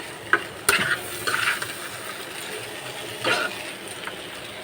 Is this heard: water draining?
no